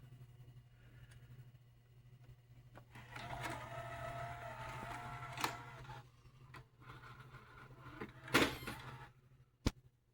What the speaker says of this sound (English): So we'll just do a quick tape eject